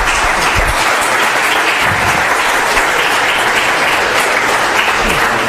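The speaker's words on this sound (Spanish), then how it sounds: "pues un aplauso para José Luis." A lecture audience applauds José Luis with dense, loud, sustained clapping that holds steady from start to finish without talk.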